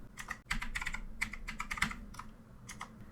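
Typing on a computer keyboard in Windows File Explorer, a quick irregular run of close, crisp key clicks for a few seconds, alone without talk.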